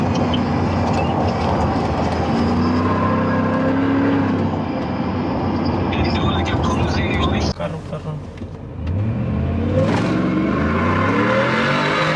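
A supercharged Shelby engine revs hard with the microphone mounted inside its engine bay, giving a loud, dense mechanical roar that holds steady, drops briefly and then surges back.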